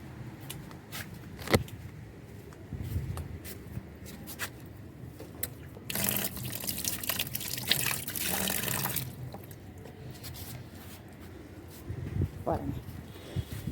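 Peanut butter fruit is rinsed under running water, with a burst of splashing tap flow in the middle amid quieter handling sounds and a voice speaking.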